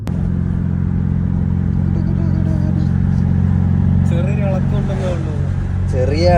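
A car with a lit check engine light and a slight shake drives down a US road; its engine holds a steady, loud low drone throughout, with voices talking over it.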